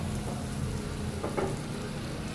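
Chutney tempered in hot oil with salt and asafoetida, a steady close sizzle and frying crackle with a faint stir or scrape partway through.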